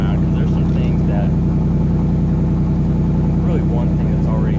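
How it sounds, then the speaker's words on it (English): A 2023 Ford Mustang GT Premium idles while warming up in a garage, its low, steady engine rumble loud and continuous with a faint voice speaking over it. "Let the car warm up, then I'll pull it out of the garage to the driveway"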